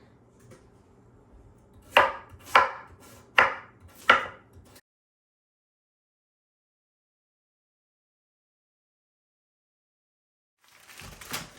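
Four crisp knife chops through potatoes on a cutting board in a steady rhythm, close by, then a long silence before a faint rustle.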